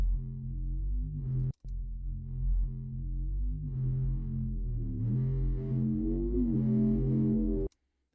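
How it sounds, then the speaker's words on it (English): Midrange bass tone pushed through gritty amplifier distortion, sustained harmonic notes shifting pitch across several phrases, cut briefly by a short gap and ending abruptly. "Some gnarly sort of amplifier distortion."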